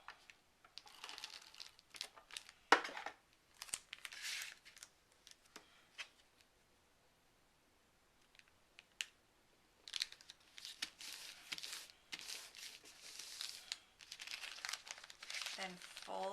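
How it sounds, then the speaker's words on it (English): Paper rustles and crinkles as a brown paper lunch sack is pressed onto decorative craft paper with a tape runner, in quiet close-up bursts separated by pauses. "attach our paper bag, our lunch sack, to our decorative paper"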